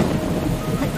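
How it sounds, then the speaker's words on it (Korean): A dense, steady rumble of stormy weather, low roaring like thunder mixed with rain-like hiss, continuous and fairly loud throughout with no voices. "순식간에 새까만 구름이 시계나무 쪽으로 다가오더니 휘잉 휘잉 폭풍이 몰아치기 시작했어요"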